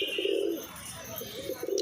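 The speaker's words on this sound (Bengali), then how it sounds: "দেখো ডাক, দেখো পায়রা ডাক" Pigeons coo in a low, rolling call, with two longer bursts at the start and end of a short stretch and fainter chirps between them, heard close and with no talk.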